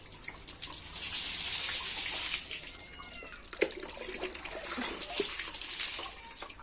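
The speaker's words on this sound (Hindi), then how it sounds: "पहले साइकिल धो लेता हूँ" Running water splashes steadily as a bicycle is washed, with a couple of louder gushing stretches and brief dips between them, close by and without talk.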